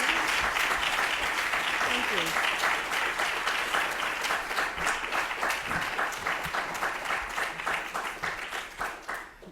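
An audience at a city council public safety and criminal justice committee hearing breaks into sustained applause, a dense crackle of many hands that gradually thins into separate claps, with a voice briefly speaking over it.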